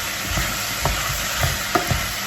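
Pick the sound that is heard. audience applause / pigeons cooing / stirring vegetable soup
stirring vegetable soup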